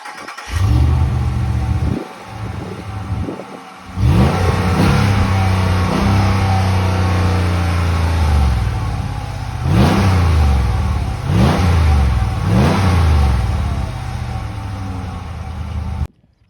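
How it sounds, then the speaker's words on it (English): A 2023 RAM 1500 Classic truck with a 5.7-liter V8 and side-exit exhaust is started and revved several times. The engine bursts loud and close, then settles into a steady idle rumble, with sharp throttle blips toward the end. "But it does have an exhaust that comes out the side, and I'll let you guys listen to it."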